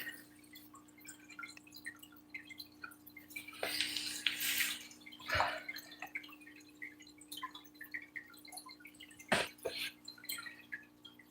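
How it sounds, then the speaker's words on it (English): Water splashes and drips in a home aquarium stocked with fancy guppies, neon tetras and Java ferns, a steady faint trickle broken by a few louder splashing bursts, with no talk. "It's sure splashing all over the place."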